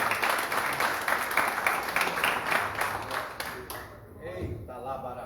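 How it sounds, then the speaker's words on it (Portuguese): A church congregation applauds for Jesus in a dense, continuous round of clapping for several seconds, which fades as a voice begins speaking. "dá uma salva de palmas para Jesus"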